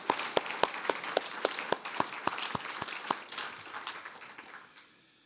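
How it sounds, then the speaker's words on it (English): Audience at a faculty poetry reading clapping, loose individual claps that start sharp and rhythmic, then blend into softer scattered applause and fade away over several seconds. "Can we have one more big round of applause for Jessica Jacobs and her beautiful poetry?"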